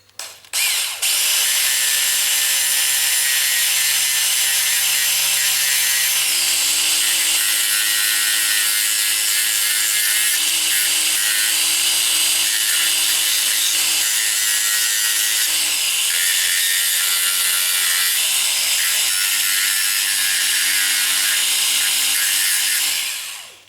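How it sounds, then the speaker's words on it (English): A small cordless sander runs steadily for about 24 seconds, cleaning up copper pipe before brazing, with a loud continuous whine that drops in pitch twice as the load changes. No one speaks. "Got this little sander for cleaning these and cleaning pipe up if you want to braze it."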